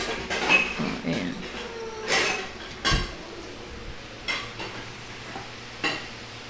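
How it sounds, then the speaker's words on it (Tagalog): Plates and frying pans put away in a unit kitchen, sounding as a series of close clattering knocks and scrapes of dishes and metal pans spaced a second or so apart, under faint background noise. "Ilalagay na namin dito yung plates muna. Tapos dito yung mga kawali."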